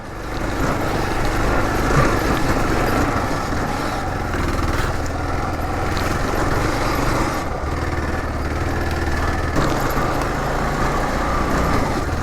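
Kawasaki KLR650 motorcycle ridden off-road along a rocky trail, its engine a steady, close, loud rumbling drone with rough mechanical texture throughout, heard without talk.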